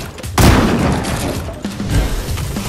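Gunfire in the video game Fortnite bursts in loud, close, rapid volleys that keep on almost without a break through the whole moment.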